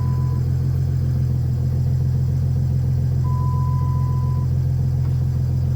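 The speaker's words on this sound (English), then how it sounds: "Now you want to turn on ignition. Ready, set, fire up." A Chrysler 300C engine idles loud and close with a steady, even low rumble that holds unchanged throughout, while a thin high tone sounds briefly now and then.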